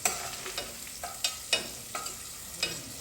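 Onions fry in a pan with a steady sizzle as a utensil stirs them, its regular scraping knocks landing about twice a second, close and clear with no talk.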